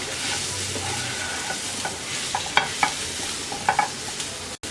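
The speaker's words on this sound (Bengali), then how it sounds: "কাঁঠালের বিচি আর পেঁয়াজ রসুন একসাথে মিক্স করে নিচ্ছি।" Jackfruit seeds with onion and garlic are stirred in a hot pan, giving a steady close sizzle with several sharp spoon scrapes and taps against the pan, and no voices.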